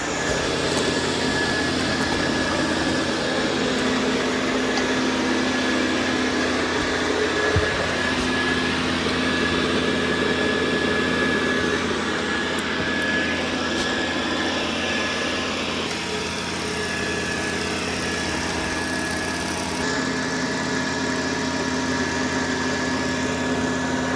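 A Dreame L10S Ultra Gen 2 robot vacuum runs in vacuum-only mode along a corner, giving a loud, steady motor whine and hum that continues without a break, with brief brushing shifts and no talking.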